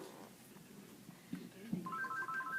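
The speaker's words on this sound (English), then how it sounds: "So you need to answer the phone." Telephone ringtone in a business meeting room, a faint electronic tone that starts near the end after some low murmuring and shuffling in the room.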